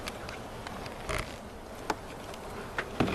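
Honey bees swarm and buzz around an open, honey-filled hive box in a beekeeping yard: a faint, steady drone with a few soft clicks and knocks.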